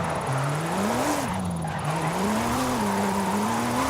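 A Porsche in Forza Horizon 5 drifts with a steady, moderately loud engine drone and a sustained tire squeal that rises and wavers throughout, with no talking.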